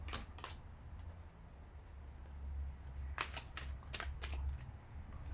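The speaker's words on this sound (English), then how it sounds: "I shuffle a funny way, just be patient with me." Tarot cards are shuffled by hand in quick riffling bursts, a few at the start and a denser cluster later, crisp and close in a quiet room.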